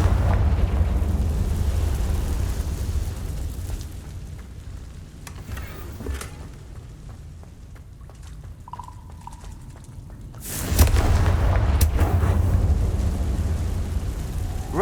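Confringo explosion spell cast in Hogwarts Legacy, a loud low rumbling blast with a sustained roar, fading into quieter ambience before a second heavy burst swells up and lingers.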